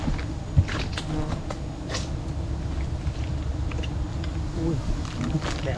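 Giant honey bees swarm around a large wild nest in a forest, making a steady buzzing drone with scattered sharper passes close by, over rustling background noise.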